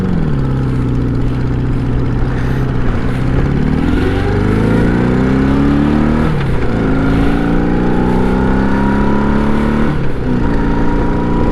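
A restored motorcycle engine with a newly repaired rear brake runs outdoors, loud and close, in a rough steady idle that rises and falls in pitch with several blips of the throttle.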